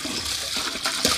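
Water poured into a chicken pot while preparing meat, a short, soft splashing trickle of liquid, close and fairly quiet.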